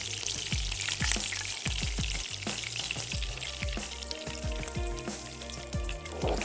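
Kebabs frying in hot oil for handi kabab, a steady bubbling sizzle with sharp crackles and pops and a few spoon taps against the pan, close and moderately loud, with no voices.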